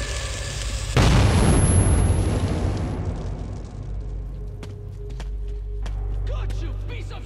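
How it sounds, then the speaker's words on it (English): A grenade detonates with a loud, sudden boom in the video game Metro 2033, followed by a long rumbling decay and scattered debris clatter, with a voice speaking nearby. "There is the grenade!"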